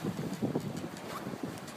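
Steady wind gusting across open water while sailing a boat on Lake Sakakawea at about 12 to 14 knots, a continuous low rushing with microphone buffeting, moderately loud throughout, no voices.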